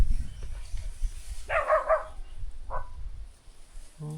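A dog barks a few times from down in a mountain gully, short distant yaps over a faint outdoor background.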